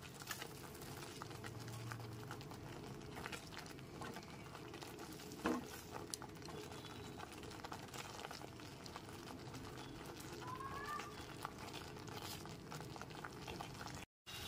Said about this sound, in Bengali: গ্যাসের ফ্লেমটা লো টু মিডিয়ামে রেখে বাদাম বাটাটা খুব ভালো মতো একবার কষিয়ে নিতে হবে